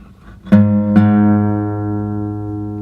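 An acoustic guitar string is plucked twice and left to ring as the tuning peg is turned, the sustained note decaying slowly over a couple of seconds, close and clean.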